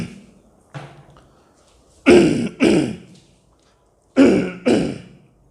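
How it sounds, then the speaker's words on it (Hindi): A man coughs and clears his throat in a close, quiet room: a light clearing, then two pairs of loud harsh coughs separated by a pause. "खांसी एक जा ही नहीं रही है।"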